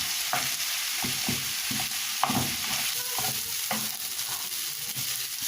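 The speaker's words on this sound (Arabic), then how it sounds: "On rajoute le persil et en remuant tous les ingrédients" Roasted vegetables with garlic and parsley stirred in a pan, soft scraping strokes at an uneven rhythm over a steady background hiss of sizzling.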